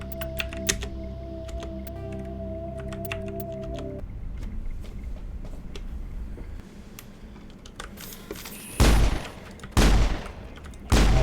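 Mass Effect gunfire from a weapon that overheats makes rapid, crackling shots over a loud game backdrop and a low hum that stops partway. Three heavy, booming bursts follow near the end.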